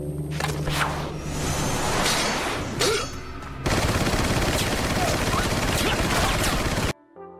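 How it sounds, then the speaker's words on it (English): Rapid automatic gunfire from a Steyr TMP machine pistol in the video game Resident Evil 4, a loud continuous burst with other game sounds and a faint voice under it, cutting off near the end. "the manly urge to hit fire the Steyr TMP"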